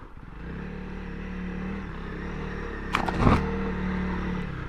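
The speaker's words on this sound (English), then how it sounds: "This is a motorcycle that does a lot of things" Honda CRF300L Rally motorcycle engine droning steadily while riding off road on a slippery trail, with a brief louder clatter and rev burst midway before settling back to an even hum.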